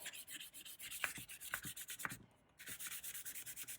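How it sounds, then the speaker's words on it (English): Very fine sandpaper rubbed by hand over the glossy cover of a handmade travel journal, making quiet, close, rhythmic back-and-forth scratching strokes that pause briefly midway, then resume. "I've got a little piece of very fine sandpaper, so I just rub it over to get rid of some of that gloss."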